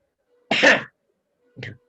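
A man sneezes during a recorded Talmud study session: one sharp, loud burst, then a softer second burst about a second later, with near silence between.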